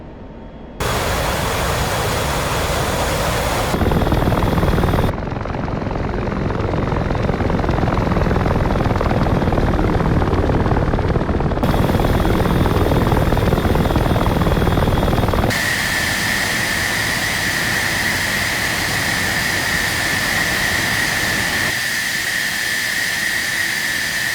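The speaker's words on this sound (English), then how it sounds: "I think those are helicopters." Steady, loud whirring roar of helicopter rotors in the flight simulator game Digital Combat Simulator, constant throughout with abrupt shifts in tone and intensity, no voices.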